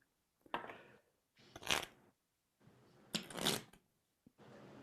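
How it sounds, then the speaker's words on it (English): A deck of playing cards just taken from its box is shuffled by hand in four short, crisp riffling bursts, separated by brief pauses, close and fairly quiet. "Should I shuffle the cards when I take them out of the box"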